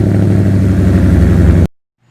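A supercharged Ford Mustang fitted with a Roush X-pipe and axle-back exhaust rumbles loud and close, a deep steady exhaust drone that cuts off abruptly near the end.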